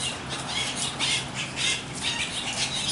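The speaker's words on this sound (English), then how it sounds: "I got birds all over the place" Birds squawk again and again, shrill and close, in a steady run of overlapping calls with no pause and nobody talking.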